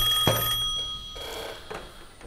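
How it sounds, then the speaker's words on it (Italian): An electronic telephone ring sounds once during a TV call-in show, a short bright chiming burst with steady tonal lines fading into faint studio ambience, with no talk over it. "C'è una telefonata"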